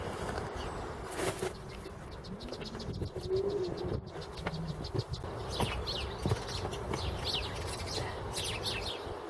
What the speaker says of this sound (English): while listening to the bird song